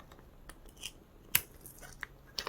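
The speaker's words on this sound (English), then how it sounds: "So get the scissors in there like that." Scissors snipping hair at an angle: a few sparse, soft cutting clicks at irregular intervals with one sharper snip, close to the microphone in a quiet room.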